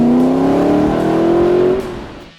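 BMW M3 E92 with its naturally aspirated S65 V8, revving loud and close as a rising engine tone climbs steadily for about two seconds, then drops away as the throttle closes.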